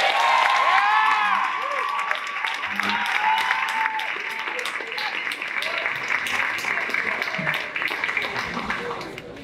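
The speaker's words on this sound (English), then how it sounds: "Please give a round of applause to Kristen Dixon." Audience applause fills the room at a sports award dinner, loud sustained clapping with some cheering, while people talk over and beneath it throughout.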